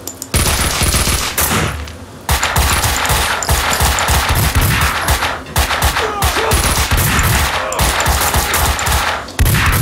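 Kalashnikov rifle gunfire in the video game Max Payne 2 rattles out in dense, loud automatic bursts with brief gaps, mixed with impact crashes and game effects.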